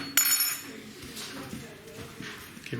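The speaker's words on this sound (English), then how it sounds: "Give it a right good mix in again." Chicken marinade being mixed with salt in a bowl for tandoori chicken, a sharp clink of utensil on bowl followed by soft wet stirring and scraping, close by, with a voice speaking.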